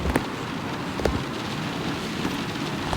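Steady rain falls in the video game Letter Lost, a dense continuous patter with a few sharper drops, heard alone at moderate level.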